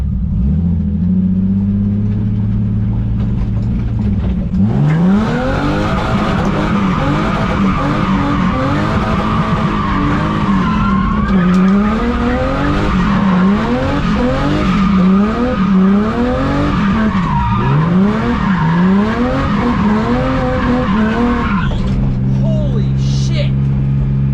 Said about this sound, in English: I think we're about to send our first donuts.